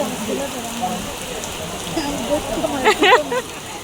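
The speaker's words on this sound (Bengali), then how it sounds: "কি নামা নামছে দেখেন প্রচুর বৃষ্টি নামছে" Heavy rain pours outside a shop as a steady close patter and rush, with a voice speaking over it toward the end.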